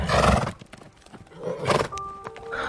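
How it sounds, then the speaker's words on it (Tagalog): A horse neighs loudly up close, followed by snorting and shuffling, then a higher whinny toward the end. "tunog pa ng kabayo noon ni Kael na lumapit sa kanya"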